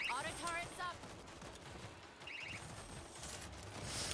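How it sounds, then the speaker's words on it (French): An automatic turret in the World War Z Aftermath video game fires bursts of rapid gunfire over a busy game soundscape, moderately loud in the mix, with voices present. "La petite tourelle automatique."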